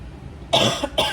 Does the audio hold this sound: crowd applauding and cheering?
no